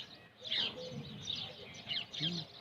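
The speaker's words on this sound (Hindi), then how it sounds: "पक्षियों की आवाज़ है चारों तरफ" Birds chirp and tweet all around at moderate distance, with repeated short high calls in bursts and a possible low cooing dove, mixed with faint background voice.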